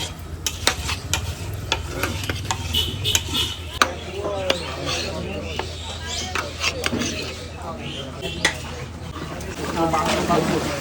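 Meat being cooked in oil at a Rajshahi eatery, with a ladle scraping and stirring the pot in repeated sharp clinks over a steady sizzle, heard up close while people talk.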